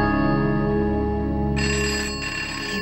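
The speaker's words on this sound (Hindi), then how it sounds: "फोन उठा क्यों नहीं रही?" A telephone rings steadily throughout, a loud electronic ringtone with a bright tonal pattern that shifts partway through, heard alone without talk.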